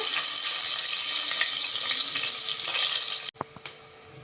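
Sliced onion fries in hot oil with whole spices for egg biryani, a loud, steady sizzling hiss that cuts off abruptly near the end and is followed by a few light clinks.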